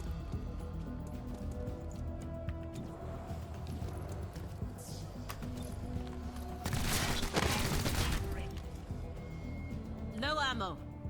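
Gunfire in the XCOM Chimera Squad tactical video game, a short burst of rapid shots near the middle with scattered smaller impacts, playing under game music and a talking voice.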